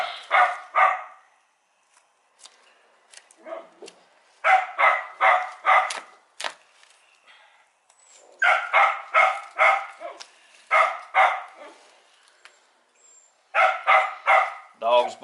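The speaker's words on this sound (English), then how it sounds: "Dog's barking." A female dog tied up outdoors while a deer is being skinned barks in repeated bursts of several sharp barks, separated by short pauses, loud and close, with occasional talk in between.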